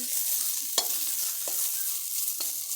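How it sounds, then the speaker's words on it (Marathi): Green chillies roasting in oil over a wood-fired village stove, stirred constantly: a steady close hiss with a few sharp clicks of a spoon scraping the pan, no voices. "चला तर मग आपल्या आता मिरच्या भाजायला सुरुवात झालेली आहे"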